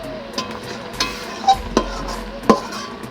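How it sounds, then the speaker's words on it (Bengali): A spatula scrapes and clinks in a pan of sizzling amadi fish curry with potato and eggplant, in a few distinct strokes over a steady, soft frying hiss. "আমি আলু আর বেগুন আর আমাদি মাছের ঝাল রান্না করছি"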